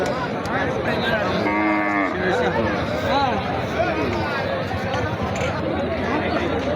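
Dense crowd chatter fills a cattle market with cows tied in rows, many voices talking at once, and cattle lowing nearby in a long moo amid the babble.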